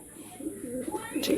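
Andhra high-flying pigeons give a brief low coo close by, a soft rolling murmur lasting about a second, with a voice speaking over it.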